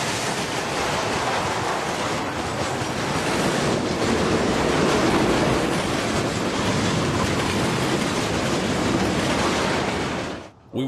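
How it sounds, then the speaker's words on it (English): A long intermodal freight train rumbles steadily past close by, a continuous broad roar with faint rhythmic clatter, cutting off abruptly near the end. "an intermodal train out of Taft Yard near Orlando"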